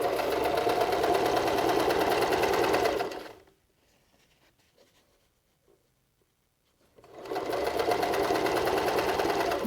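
A sewing machine stitches across a reusable fabric face mask with elastic, running steadily for about three seconds, falling silent for several seconds, then starting up again with the same continuous whirring hum.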